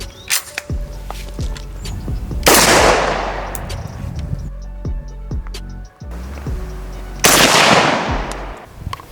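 Military-grade 5.56 rifle test-fired outdoors, with several loud, sharp shots in an irregular series, two of them followed by long, heavy echoing booms.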